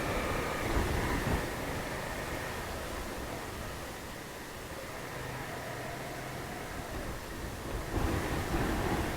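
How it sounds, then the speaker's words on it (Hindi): Strong wind blows outdoors near hillside caves, a loud continuous roaring rush that swells and eases with no clear break. "बहुत तेज़ हवा है"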